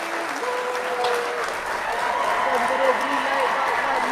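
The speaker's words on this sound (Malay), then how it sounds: "Berikan tepukan gemuruh kepada Tuan Azam" Applause during a live online session, continuous clapping with a voice talking over it throughout.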